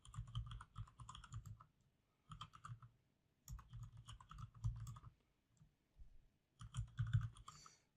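Keys clatter in quick bursts on a computer keyboard while text is entered into a Word 2016 document, with several short runs of rapid typing separated by brief pauses, close and fairly quiet with no voices.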